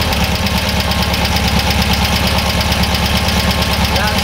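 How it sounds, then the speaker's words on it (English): An air-cooled VW engine with dual carburetors idles loudly and steadily nearby as it warms up after a fresh start, a constant rhythmic chugging with a faint ticking knock. "Now we know that our idle is pretty much balanced between the two carburetors."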